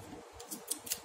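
Scissors snipping through tape during a tape-painting craft, a quiet series of short crisp cuts repeating about four times, the last ones sharper, with no voices.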